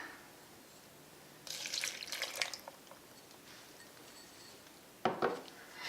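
Almond milk is poured into a blender for a raspberry mint smoothie in a kitchen, giving a soft splashing stream for about a second, then a quieter trickle and a brief clink, faint and without talk.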